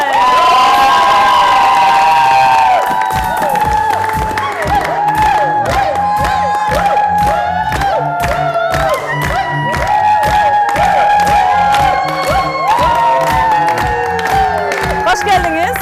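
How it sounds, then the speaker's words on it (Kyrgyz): Studio audience on a Kyrgyz TV dating show, clapping in steady rhythm and cheering loudly to welcome a female contestant, with whoops and music-like tones over the crowd throughout. "Анда сиздердин шаңдуу кол чабууларыңыздар менен Заринаны тосалабыз."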